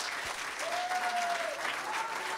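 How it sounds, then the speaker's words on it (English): A church congregation applauds during a morning service, a dense, steady wash of clapping throughout with a brief sung or called tone rising above it. "Give the Lord a great hand of applause this morning."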